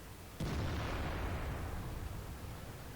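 A tank shell strikes without penetrating in World of Tanks: one sharp, heavy impact boom followed by a rumbling, fading decay.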